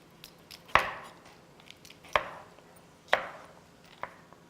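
A knife slicing red peppers on a board makes four separate sharp chops, evenly spaced, close and clear, over a quiet background.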